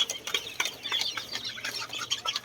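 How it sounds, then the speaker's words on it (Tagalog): Chickens in a small backyard farm space holding over a hundred birds, clucking close by in a busy, irregular patter with a few wing flaps, no talking. "may manok po ko dito mahigit isang daang piraso"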